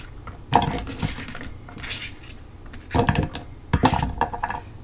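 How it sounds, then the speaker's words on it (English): Several clattering, sizzling bursts as golden beet slices drop into a frying pan, with metallic clinks and scraping in irregular clusters, close up. "we're going to put the beet slices into a frying pan."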